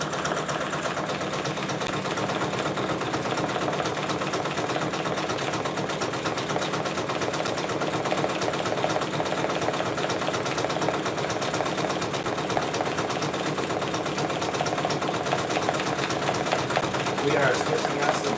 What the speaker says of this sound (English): We are still stitching at 500 stitches per minute.